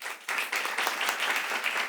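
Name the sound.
audience applause in hall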